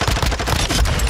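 Rapid automatic gunfire in Call of Duty Modern Warfare 2 multiplayer, a dense loud burst of closely spaced shots filling about a second with no talk.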